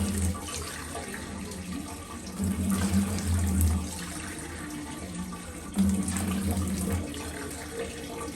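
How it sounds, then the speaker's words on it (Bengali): Water runs steadily from a kitchen tap into a cup, measured out to match the rice, with the flow swelling and easing slightly and no talking. "আমরা এখান থেকে কাপ পরিমাণ পানি নেব"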